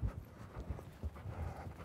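Horse hooves in a rhythmic, fairly close clip-clop during a riding training session on a circle, steady low thuds with light ambient noise and no talking.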